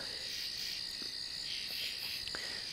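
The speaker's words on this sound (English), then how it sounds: "I think they're katydids." Katydids and crickets fill a cool late-October night with a dense, steady, high-pitched chorus, with a few faint clicks on top and no talking.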